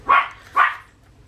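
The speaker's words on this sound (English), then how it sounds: "I don't know what he's barking at." A dog indoors gives two sharp, loud barks about half a second apart, close by and with no talking over them.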